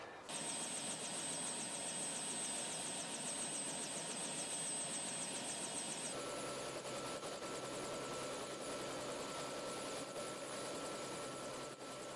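A helicopter sits with its rotor blades turning, a loud, steady, close engine and rotor roar whose whine shifts partway through, with no speech.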